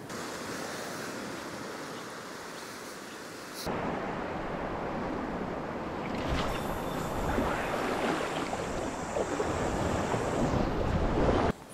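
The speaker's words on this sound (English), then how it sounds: "in a matter of minutes the waves are pushing up again" Sea waves break and wash up a flat beach on the Northumberland coast, a steady broadband roar with wind buffeting the microphone, growing louder and more surging in the second half.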